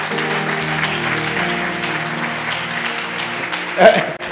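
A church congregation at a fasting and prayer service applauds and cheers in praise of the Lord, a steady wash of clapping mixed with sustained voices and music. Near the end the applause swells briefly.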